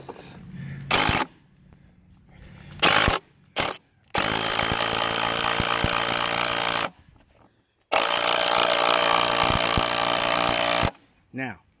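Impact driver tightening the nut on a pool cartridge filter, firing in two long loud rattling bursts of several seconds each, preceded by a few short knocks and handling noises.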